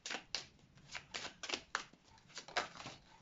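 Cards being drawn and laid out from a deck of cards, a string of soft, crisp slides and flicks in an uneven rhythm, quiet and close.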